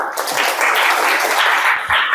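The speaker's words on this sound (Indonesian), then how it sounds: "Kita kasih aplaus." Meeting participants applaud after a coaching session, with steady, moderately loud clapping from a small group that holds for about two seconds.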